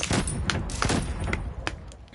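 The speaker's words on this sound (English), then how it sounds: "Enemies called a strafing run." Enemy strafing run in Call of Duty: Vanguard, a rapid series of heavy impacts and gunfire thuds rolling in quick succession, loud and close with no talking.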